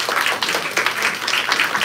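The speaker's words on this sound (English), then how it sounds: "Give them applause while you're thinking of your question." An audience at a literary reading with poets applauds in a brief, close burst. Uneven clapping swells and dips over about two seconds.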